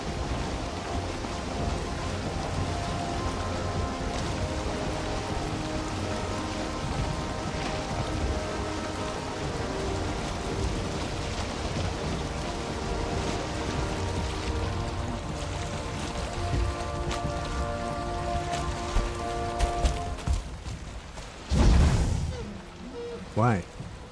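Steady rain hisses across the world of the video game Valheim, a dense even wash throughout, with a brief heavier rumble near the end.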